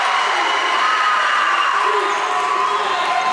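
A huge high school gymnasium crowd, with loud student sections, cheers and shouts at a varsity volleyball match right after an ace serve. The roar is dense, steady and loud throughout, with no single voice standing out.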